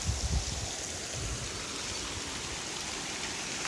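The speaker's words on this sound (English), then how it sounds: "So this overflow from the canal drops down onto the opposite side, into a waterfall, and that's the River Douglas." Canal overflow spilling down as a small waterfall into the River Douglas beside a village canal walk, a steady rushing wash of water close by, continuous and alone.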